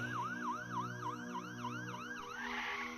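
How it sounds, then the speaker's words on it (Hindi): A police car siren wails in a steady, repeating rising-and-falling pattern, loud and continuous with a low engine hum beneath, used as a sound effect in a narrated horror story for children. "थोड़ी ही देर में पुलिस की गाड़ी आ जाती है।"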